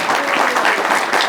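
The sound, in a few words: audience applause for comic con panel guests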